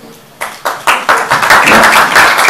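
Audience at a press conference breaking into applause, a few separate claps that quickly swell into loud, close, continuous clapping.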